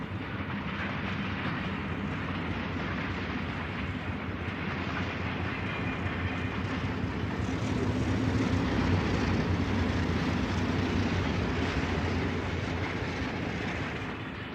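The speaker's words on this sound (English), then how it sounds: "This Shasta Daylight is behind a set of Alco PA series diesels" A Southern Pacific Shasta Daylight passenger train hauled by Alco PA diesel locomotives rumbles past. A heavy, continuous roar of engines mixes with rolling wheel noise, swelling louder in the middle before easing off slightly.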